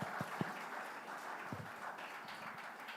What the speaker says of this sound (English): If I may request everybody to welcome our session chair and our speakers with a nice round of applause.